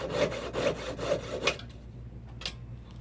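A jeweler's saw cutting through the gold shank of a ladies' ruby and diamond ring, four quick rhythmic rasping strokes close up, then near silence with one faint scrape.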